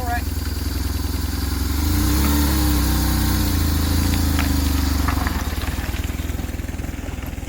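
A 1997 BMW R1100 Touring motorcycle engine runs close by with a steady, loud, throbbing low rumble that swells slightly midway, while voices are faintly audible.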